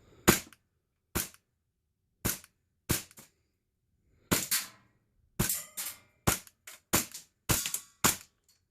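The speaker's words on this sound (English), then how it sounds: "So I'm just gonna fire off a couple rounds here." A Russian-style HPA airsoft gun fitted with a new CQB valve fires about eleven sharp, loud shots, singly and in quick pairs, with short silent gaps and no talking.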